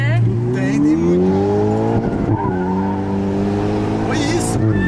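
A fast car on a race track gives a loud, close engine roar whose pitch climbs and dips through gear changes, with a short burst of tire noise near the end.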